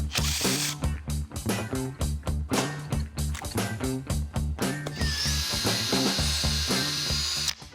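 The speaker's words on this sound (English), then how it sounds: "So we'll get this plate off of here and start drilling some holes." A power drill with a number 44 bit whirs in loud, repeated bursts, stopping and starting as it bores holes in a metal plate from a Crown Victoria police car, with a steady high whine toward the end.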